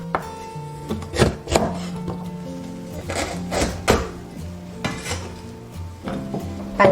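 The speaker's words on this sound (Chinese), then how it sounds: "玉米改刀切条" Knife cutting corn into strips on a board in a home kitchen while preparing spicy dry pot, with irregular nearby chopping knocks and clinks of utensils and dishes, moderately loud, with no talk.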